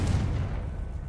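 Confringo blasting spell in a Harry Potter video game, a single deep boom that hits at once and rumbles away over about a second.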